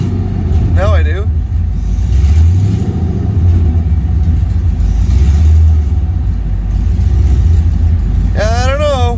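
LS-swapped OBS truck engine revving, a loud continuous low rumble that swells with throttle blips, heard close with someone talking over it.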